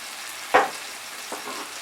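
Spice masala for a Bengali prawn dopiaza fries over medium heat, a soft steady sizzle broken by one sharp stir or scrape and a fainter second one.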